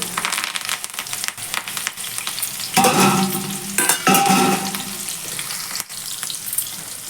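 Green chillies and fresh curry leaves fry in leftover oil with a loud, continuous sizzle. Stirring scrapes and clatters run through it, with no voices.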